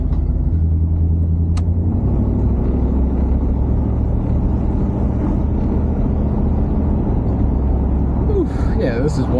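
An old barn-find Buick that sat for years cruises along the road, its steady low engine and road rumble filling the cabin continuously, with a brief voice near the end.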